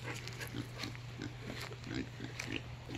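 Low pig grunts come in short repeated bursts over a steady hum, with background noise throughout.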